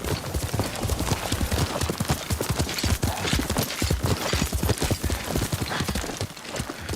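Horse hooves clip-clop steadily and close in the Ghost of Tsushima video game, a dense run of quick, even hoofbeats over faint ambient background, with no talk.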